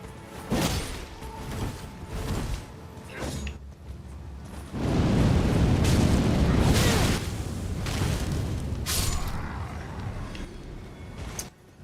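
Fireworks going off in Elden Ring: repeated pops and booming bursts over a steady crackling rumble, with a louder, denser barrage in the middle, close and fairly loud throughout.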